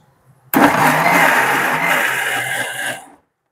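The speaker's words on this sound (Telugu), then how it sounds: "మళ్ళీ మిక్సీ పట్టుకుందాం" A mixer grinder whirs loudly and steadily for about two and a half seconds, grinding tamarind and dal chutney with small onions, starting abruptly and cutting off cleanly at the end.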